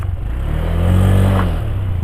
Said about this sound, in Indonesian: kita buka gas. Tuh, suara motor ini kedengar ngegerung dulu